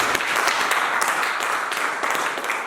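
A church congregation applauding and cheering for Jesus during an evangelistic service, a steady broadband wash of many hands clapping with faint voices mixed in, continuous and fairly close for the whole stretch.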